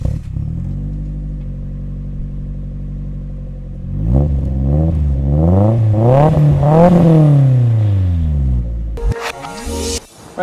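A 1995 Nissan S14 idles with a deep steady exhaust burble, then is revved repeatedly, rising and falling in several loud close blips before a sharp clatter; someone speaks briefly near the end.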